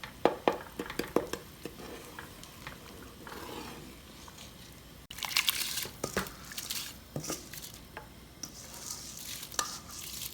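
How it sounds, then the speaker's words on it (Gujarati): A spoon scrapes and stirs through chicken bouillon and part-cooked rice in a pot, with soft sizzling underneath and irregular clinks and scrapes, heard close and alone. "તો એની અંદર હવે આપણે એક બીજું ચિકન બુલિયન નાખી દઈશું અને એને ફાઇન રીતે આમ ઓગાળી નાખશું"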